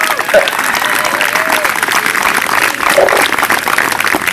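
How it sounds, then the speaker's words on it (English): Dense, loud applause from a crowd at a marching band camp performance fills the whole moment, with a few scattered whoops and cheers rising above the clapping. "we can give them a good cheer"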